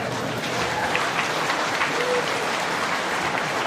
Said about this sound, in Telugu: మీరు ఎందుకు క్లాప్స్ ఇస్తున్నారు?